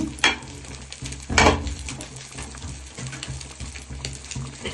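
Fish frying in a pan in a village kitchen, a continuous crackling sizzle up close, broken by a couple of louder clattering stirs or flips near the start.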